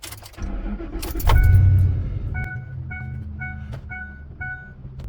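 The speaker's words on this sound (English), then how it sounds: "you wake up one morning and you start your F-150" A 2004-2010 Ford F-150 cranks and starts on a cold morning, with a loud burst of engine noise settling into idle, then a run of repeated electronic chimes over the running engine.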